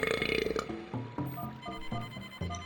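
A guttural burp in Starfox Adventures, a video game, rumbles low and bubbly over a few seconds, with short choppy bursts following it, moderately quiet.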